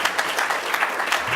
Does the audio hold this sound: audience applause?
yes